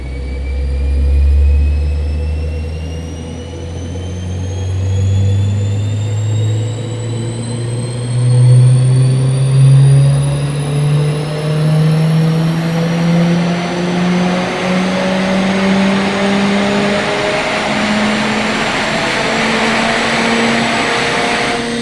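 A Mercedes-AMG A45 S in standard form makes a dyno power run, its engine pulling in one long, loud climb through the gears. The pitch rises steadily for over twenty seconds with a whining overtone, close and alone, no talk.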